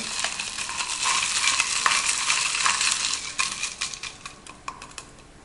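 A Carambar, milk and sugar mixture for iced coffee being stirred, quick clinking and scraping strokes in a steady run, close up and fairly loud, fading toward the end with no voices.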